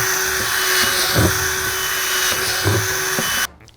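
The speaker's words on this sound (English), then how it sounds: "And drill some air holes in your lid." A power drill bores air holes into a plastic bucket lid for a worm bin, a steady whining hum with short louder bursts as the bit bites through, running continuously before cutting off abruptly.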